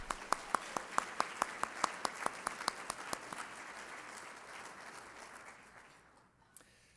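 Rotary Club ethics awards audience applauding: one person's sharp, evenly spaced claps ring out over a softer crowd of clapping, which thins and fades away toward the end, with a last stray clap.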